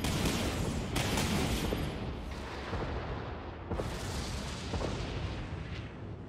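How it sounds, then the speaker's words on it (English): Missile volleys launching in the Dreadnought space combat game: a loud, sustained roar of layered booms and rushing blasts, with sharp bursts near the start and middle that slowly ease off, no talking. "Launching missiles."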